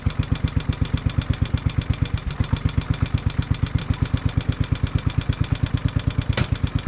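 Locke Triplex lawn mower engine idling steadily with an even, rapid firing pulse throughout, close and fairly loud, no talking.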